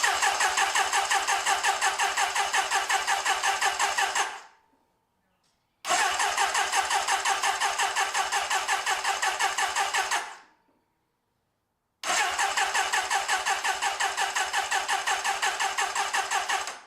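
A Suzuki GSX-R1100 motorcycle, unstarted for over 28 years, cranks in three long, rhythmic starter bursts of about four to five seconds each, loud and close. The bursts are separated by silent pauses and the engine never settles into an idle.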